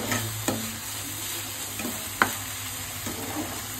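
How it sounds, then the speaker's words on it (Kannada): Prawns with coriander fry gently in a pan over a low flame, a steady soft sizzle with a few sharp clinks of a spatula against the pan, no voices. "ಇವಾಗ ಇದನ್ನು ಒಂದು 5 ನಿಮಿಷ ಕಮ್ಮಿ ಉರಿಲಿ ಫ್ರೈ ಮಾಡ್ಕೊತೀನಿ."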